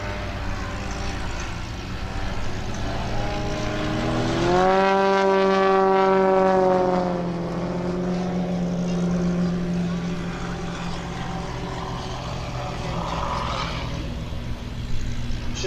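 Vintage aircraft at the Old Warden airshow make close coordinated passes, a steady engine drone swelling to a loud rising-then-falling harmonic roar midway as they pass near, then settling back to a continuous background hum.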